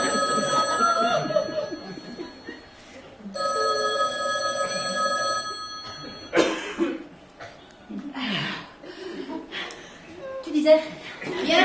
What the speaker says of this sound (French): je crois que le téléphone sonne.